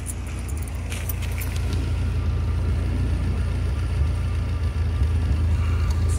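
A 1991 Toyota Previa van cruising on the freeway: a steady, loud low engine drone and road rumble from inside the cabin, with faint rattles on top and no talking.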